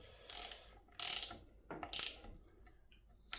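Ratchet of a torque wrench clicking in short bursts while tightening lower timing chain and girdle bolts on an engine build, three crisp rattling runs close by with quiet pauses between, no talk.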